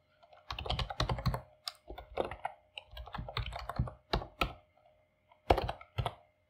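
Bursts of rapid keyboard typing, clustered clicks with short pauses between runs, close and fairly quiet.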